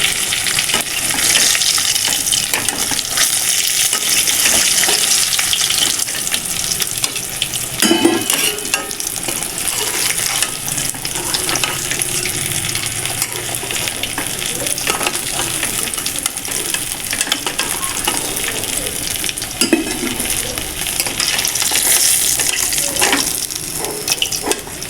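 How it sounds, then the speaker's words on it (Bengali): Pieces of rohu fish fry in hot oil with a dense, constant crackling sizzle close by, broken by occasional stirring or turning sounds, and nobody talks. "এই তেলে সব মাছ ভাজাগুলো ভেজে নেব।"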